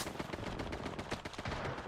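Gunfire in the video game Apex Legends, dense rapid automatic shots and bursts packed together over about two seconds, loud and continuous with no pauses and no talk.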